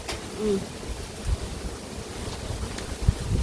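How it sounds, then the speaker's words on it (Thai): Strong wind blowing outdoors near rice fields, buffeting the microphone with rumbling gusts and a steady rushing background, a few low thumps mixed in. "ลมแรงดิอ่า"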